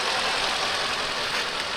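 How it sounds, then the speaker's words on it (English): A Mercedes C55 AMG's 5.4-liter M113 V8 idles steadily in a clean engine bay, producing a dense, even hum that is close and continuous, with no voices over it. "So this is an M113 engine, pretty famous engine from Mercedes"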